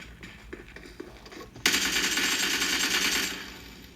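Gunfire in a PUBG Mobile firefight: a few scattered distant shots, then a sudden loud burst of rapid automatic fire that rattles on for about two seconds before trailing off.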